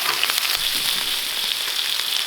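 Pork belly sizzling on a grill, a steady bright crackling hiss with dense popping throughout, close and continuous without any voices.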